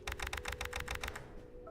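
Quick, evenly spaced keyboard clicks in Kathy Rain 2, about nine crisp taps in just over a second, loud and close, before they stop over a faint humming background.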